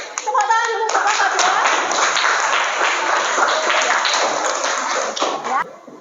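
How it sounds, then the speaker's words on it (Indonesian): A classroom group applauds student group 2 after a presentation, steady dense clapping from many hands filling about five seconds before stopping abruptly, with a few children's voices mixed in at the start. "Tepuk tangan dulu untuk kelompok"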